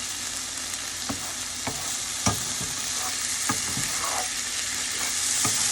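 Empanada filling warms in a pan with a constant low sizzle, broken by occasional sharp taps and scrapes of a spoon stirring against the pan.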